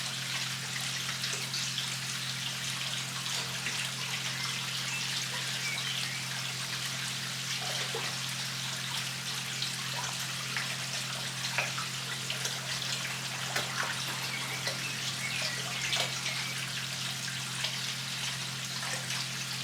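An air pump runs in a salted grow-on fish pond, keeping a steady low hum beneath continuous soft bubbling and trickling water, with no talk.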